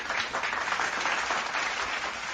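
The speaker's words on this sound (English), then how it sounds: "One more time for the claps." Steady applause-like clapping sound effect played during a Yankees versus Braves baseball watch-along stream, a dense continuous crowd of claps sustained at even loudness throughout.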